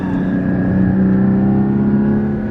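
A Porsche Cayman GT4 engine pulls steadily and loudly on a canyon road, a continuous close, rising drone with no pauses.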